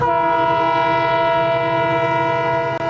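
A railway train sounds its horn in one loud, unbroken whistle lasting the whole stretch, close and steady, with a faint rumble of the train beneath.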